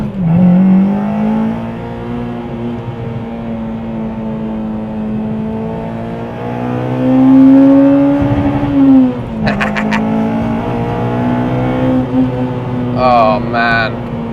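A Honda Civic Type R EP3 fitted with SuperPro polyurethane bushes accelerates hard along a road, its engine note climbing steadily, dipping briefly at a gear change, then pulling up again, loud and close from inside the cabin.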